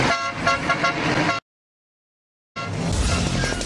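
A loud car horn blares continuously, cuts off into a second of silence, then sounds again with traffic noise.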